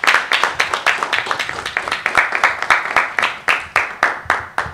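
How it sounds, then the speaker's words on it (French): Audience applause at a public event, sounding as a brisk, even series of claps, loud and close, keeping a steady beat for the whole stretch. "sous vos applaudissements"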